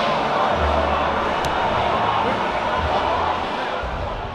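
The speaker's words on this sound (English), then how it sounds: "a crowd!" Dense roar of a large festival crowd at Hellfest heavy metal festival, loud and continuous, with some speech mixed into the wash of noise.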